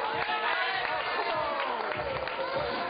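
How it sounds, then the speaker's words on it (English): Steady crowd roar and cheering fill a women's bouldering World Cup qualification round in Innsbruck, Austria, loud and continuous throughout, with voices blended into the noise. "The big cheer that you heard was for Barbara Bacher"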